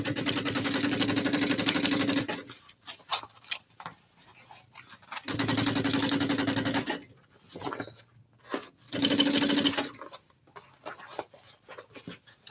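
A sewing machine runs a joining stitch through a backpack lining in three steady whirring bursts, each around two seconds long, with quieter handling noises between them and no talking.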